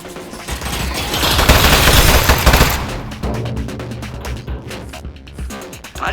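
Turret gunfire erupts in an ambush in the video game Aperture Desk Job: a loud, dense burst of rapid shots for about two seconds, followed by scattered sharp bangs and clatter.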